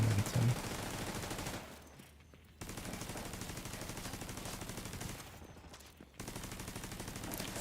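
Rapid, continuous video-game gunfire rattles in two long sustained bursts separated by brief quieter gaps, loud and dense throughout.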